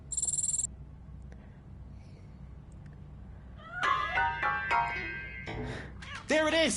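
A cat hidden inside a piano in the video game RoboCop: Rogue City, a few meows and mewls rising near the end after a quiet stretch, with a brief electronic tone at the start.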